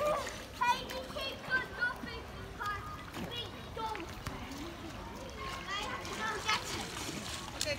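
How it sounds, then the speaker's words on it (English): Water splashing in a hotel swimming pool in Portugal, with irregular splashes and ripples running through the clip while children's voices chatter and call nearby. "I traveled to Portugal, swimming pool in Portugal"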